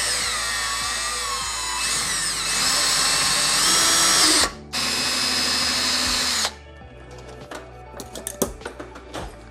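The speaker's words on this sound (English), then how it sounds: "So I'm gonna drill right there." A power drill whines loudly as it bores into a plastic pump sprayer, its pitch shifting under load, stopping briefly, running again, then giving way to scattered clicks and taps.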